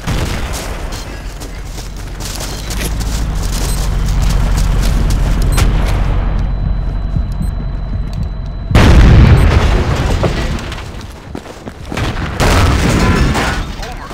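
Artillery shells burst in the Battlefield 2 video game on the FuShee Pass map, with a steady rumbling battle bed and one loud, deep explosion near the middle followed by further crashes, all under the in-game mix.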